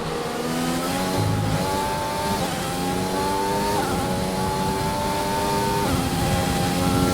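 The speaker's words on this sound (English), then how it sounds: "Really attacking the revs there." A Grand Prix race car in the Grand Prix 3 video game revs hard and continuously on the Spanish Grand Prix circuit, its engine pitch climbing and then dropping briefly at each gear change, loud and steady throughout.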